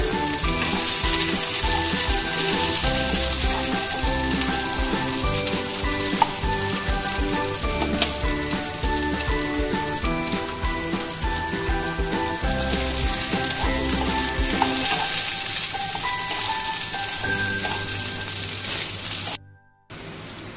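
Chopped onion and garlic sizzle in hot oil for uchor chingri, a steady, loud frying hiss with stirring noises that carries on throughout before cutting off abruptly near the end.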